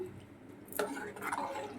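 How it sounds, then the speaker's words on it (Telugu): Water is poured into rice cooking in a pot for a Rayalaseema ragi sangati meal. A short, close splash and trickle rises midway over quiet kitchen background. "కొంచెం నీళ్ళు వేస్తున్నాను నేను"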